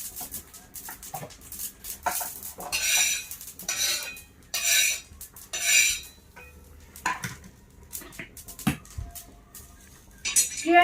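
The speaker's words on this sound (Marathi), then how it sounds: "तिळ इकडे भाजून घ्यायला लागले तेलामध्ये नाही" Sesame seeds being dry-roasted in a pan and stirred with a metal spoon, irregular scraping and clinking strokes near and fairly loud, with pauses between bursts.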